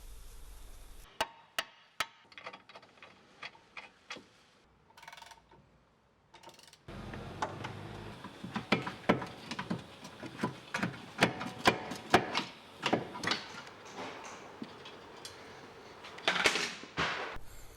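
A hammer strikes a car hub ball joint on an Astra H VXR lower arm in a series of sharp metallic taps, irregular and close, sometimes in quick clusters, with quieter workshop handling noise between them.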